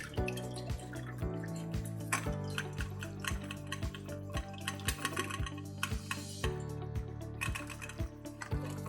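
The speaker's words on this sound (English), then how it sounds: "Drain the liquid right here." Liquid draining from a can of chickpeas, heard as a close run of irregular drips and trickles with faint metallic taps and small splashes, steady throughout with no voices.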